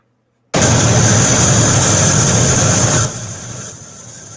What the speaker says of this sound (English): This is the sound of waterfall.